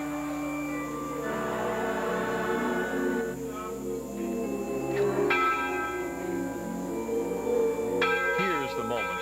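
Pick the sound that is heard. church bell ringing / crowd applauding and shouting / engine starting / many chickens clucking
church bell ringing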